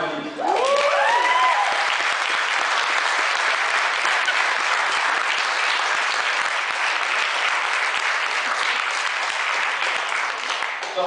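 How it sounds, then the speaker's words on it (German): Loud, sustained audience applause for two dance groups at a German championship award ceremony, a dense even roar of many hands filling the hall, opening with a brief whoop from the crowd. "alle beiden Gruppen haben ja einen riesigen Applaus nochmal verdient"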